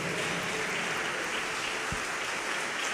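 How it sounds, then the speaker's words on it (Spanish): A church congregation applauding for the Lord during a Spanish-language service, loud continuous dense clapping filling the room without pause, with no voices standing out. "Más fuerte ese aplauso al Señor."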